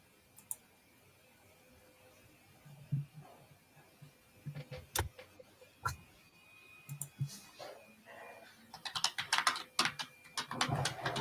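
Fingers typing on computer keyboards: scattered key clicks at first, building into rapid, dense bursts of tapping near the end, fairly close with no talking.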